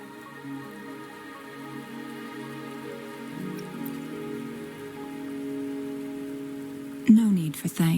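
Rain falls steadily in the video game Wuthering Waves, a soft constant patter under layered background music, with a short loud musical swell near the end.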